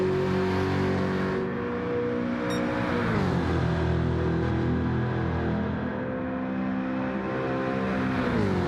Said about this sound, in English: that Jaguar was sounding very nice down Conrod Straight